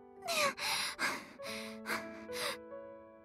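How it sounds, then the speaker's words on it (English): A girl pants in a string of short, breathy gasps, about six quick breaths in an uneven rhythm, heard close and alone over a soft sustained background tone. "Can you stop panting"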